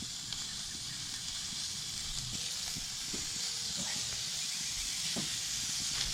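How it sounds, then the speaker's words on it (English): Real beef burgers sizzle on a grill outdoors at an RV, a steady frying hiss with scattered faint pops and clicks, moderately close and continuous, no voices. "Now we're going to put the burgers on,"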